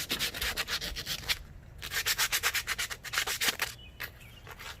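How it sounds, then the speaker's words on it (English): Hand sanding the front brake calipers of a 2004 Suzuki GSX-R 1000 before painting, a close, rhythmic run of scratchy back-and-forth strokes with a couple of short pauses, alone. "But that's all I'm doing is sanding it up good."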